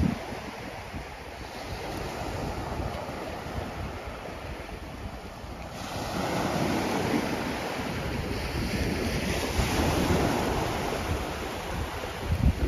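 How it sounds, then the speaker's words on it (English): Ocean surf and a cool, muggy breeze at Puek Tian Beach in Petchaburi, Thailand, a steady wash of waves swelling louder midway, with wind rumbling against the microphone and no voices. "at least you have the cool breeze coming off the ocean"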